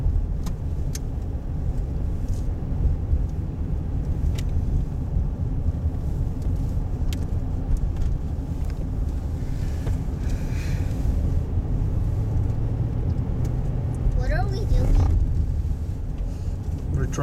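A car driving along a mountain road toward Wrightwood, California, its steady engine and road rumble continuous and close throughout, with a brief rising whine near the end.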